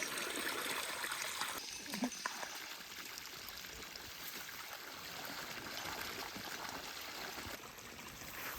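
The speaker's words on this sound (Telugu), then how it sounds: "కరెంటు సప్లై లేకుండా మోటార్ పోస్తున్నాయి" Water pouring from motor pumps running without a power supply, a continuous broad splashing rush heard at a moderate distance, with faint talk underneath.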